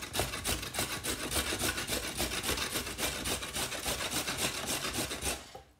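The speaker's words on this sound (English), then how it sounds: "Now I'm going to grate zucchini. And now we are going to grate 1 carrot." Zucchini and carrot rubbed against a kitchen grater, a steady rapid rasping scrape with rhythmic strokes continuing for several seconds, close and fairly quiet, then stopping abruptly.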